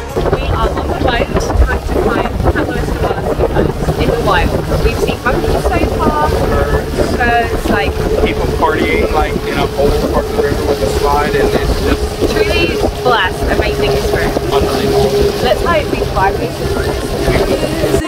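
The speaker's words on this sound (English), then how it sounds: "We are on the boat." A small fishing boat motors along the Magdalena River in Colombia, giving a steady engine drone with water rush and wind buffeting the microphone throughout, while people talk over it.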